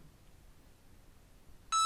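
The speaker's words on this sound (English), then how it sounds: "it's going to beep when it's had its 15 seconds." A heat press timer sounds a single sharp electronic beep at the end of its 15-second cycle for heat transfer vinyl, cutting in loudly after near silence.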